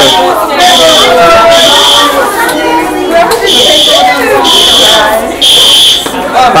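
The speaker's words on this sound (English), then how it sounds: "We have the most insane principal for pulling the fire alarm." A school fire alarm on the last day of school buzzes in loud, regular on-off pulses over the noisy chatter of a crowd of students.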